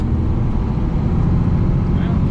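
A Cummins diesel truck pulls away in first gear on a morning drive, a loud, steady low engine rumble heard from inside the cab for a couple of seconds.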